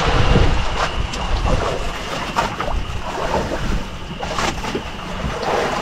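Boat out at sea at night during fishing, with water sloshing and washing against the hull under steady wind rumble and buffeting, close and continuous, with no voices.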